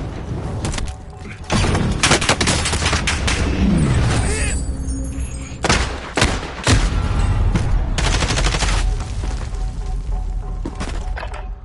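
Loud, dense gunfire in a PS4 shooter game, rapid cracking shots and bursts stacked over a continuous roar of battle noise, with a brief sweeping whine partway through.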